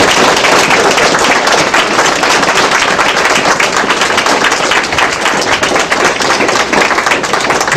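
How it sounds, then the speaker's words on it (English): Loud, dense applause from a crowd honoring cadets at a Veterans Day ceremony at an American Legion post, a steady wash of many hands clapping that fills the whole stretch without pause. "Let's give these cadets a round of applause."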